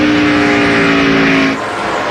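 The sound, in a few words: NASCAR race car engine as driver lifts off throttle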